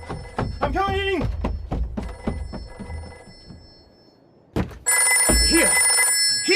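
A telephone bell rings in a radio drama sound effect, repeated trilling rings amid footsteps and thumps, with a voice talking over parts of it, louder ringing returning at the end.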